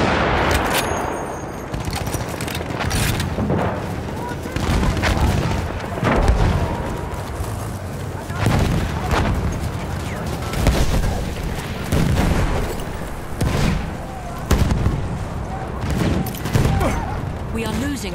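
Battlefield 1 combat with bursts of rapid machine gun fire mixed into constant booms and explosions, loud and chaotic, while voices shout in the middle of the fighting.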